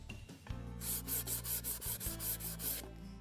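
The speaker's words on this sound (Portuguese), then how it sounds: "isso sempre nas partes mais ásperas do MDF. Lixamos então em todas as laterais." Sandpaper rubbed by hand along the rough edges of an MDF board, a quick run of rhythmic back-and-forth scrubbing strokes, close and fairly loud, with no talking.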